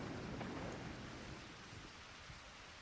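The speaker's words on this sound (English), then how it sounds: "It's starting to thunder now, too." A rain and thunder storm in the video game Eternal Sonata, a dense steady hiss of rainfall with a low rumbling swell at the start that fades to a softer wash.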